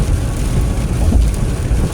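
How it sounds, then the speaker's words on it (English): Heavy rain pounds a car while driving on a highway in East Tennessee, a dense, steady roar of water and road noise, loud and continuous with no talk. "It rains so hard sometimes, it's really hard to see the lines."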